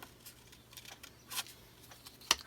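Tim Holtz scissors fussy-cut paper in a quiet crafting space, with a couple of short, crisp snips standing out faintly against soft rustling.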